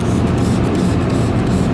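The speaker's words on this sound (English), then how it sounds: "all I'm gonna do is spray it on here, kind of at a random" Paint spray hisses steadily from a spray gun as it speckles a flat custom-painted surface for a water droplet effect, a continuous close rushing noise with no pauses.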